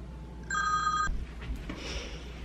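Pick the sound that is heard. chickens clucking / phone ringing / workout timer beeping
phone ringing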